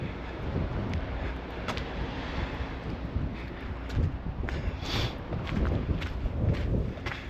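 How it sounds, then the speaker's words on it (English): Steady breezy wind on a coastal shore path in Bar Harbor, Maine, a continuous broadband rush with gusts and faint scattered clicks, near and fairly even throughout with no talking. "It's a little breezy."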